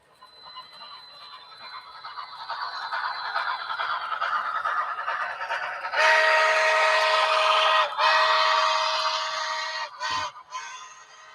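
A Bachmann model steam locomotive's sound unit plays a sustained whistle that swells, then sharpens into a louder, steady tone before cutting off in brief breaks; close and loud, with no talk.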